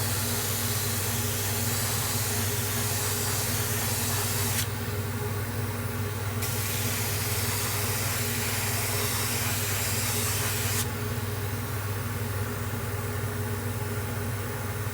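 Black base coat is spray painted over the back of a handmade glide bait fishing lure, heard as a continuous close airbrush hiss that steadies and swells in two stretches over a low compressor hum.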